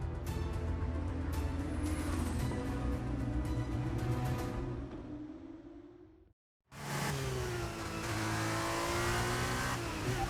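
A Formula 1 car in the racing game F1 23 pulls away on brand-new tyres, its engine rising in pitch through the gears, dropping out briefly at a cut, then screaming loudly again at high revs.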